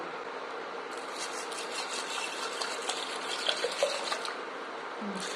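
Water pours steadily into a cooking pot with turmeric and fenugreek dal, in a continuous rushing stream, close by, stopping near the end.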